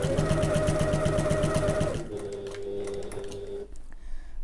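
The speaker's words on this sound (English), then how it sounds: "I'm going to sew from the bottom to the top" Sewing machine stitching a tote bag panel with a mesh pocket and lining, a fast steady mechanical rattle for about two seconds, then stopping, leaving quieter handling noises and faint machine hum.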